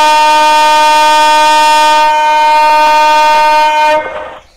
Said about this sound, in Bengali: ইঞ্জিনটাকে চালু করে দিলাম আমরা।